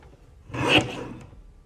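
A paper trimmer blade slides once through a sheet of cardstock, a single brief close swish of under a second in a quiet room.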